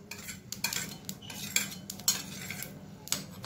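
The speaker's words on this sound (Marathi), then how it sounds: "आता आपण इथे सगळे मसाले हे थोडे थोडे भाजून घेऊयात" Sesame, cumin and poppy seeds dry-roast in a pan, heard as repeated metallic scrapes and clinks of a spoon against the pan over a low, dry background rustle.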